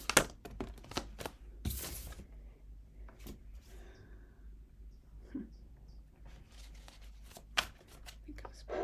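Quiet crisp riffling and soft slaps of playing cards being shuffled, in irregular bursts close by, with faint voices murmuring in the background.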